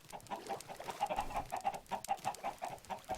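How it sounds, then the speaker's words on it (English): Minecraft chicken clucking over and over in a quick, rhythmic pattern, fairly close and steady for a few seconds, with faint game background beneath. "Oh, I just heard a cluck."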